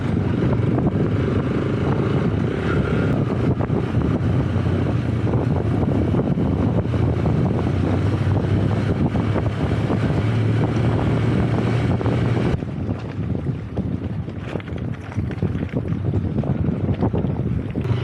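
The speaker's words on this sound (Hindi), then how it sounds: "हवा बहुत तेज़ है इस एरिए में" Strong wind blows across an open mountain lakeshore, roaring and buffeting the microphone in a continuous low rumble that eases somewhat near the end, with no talk.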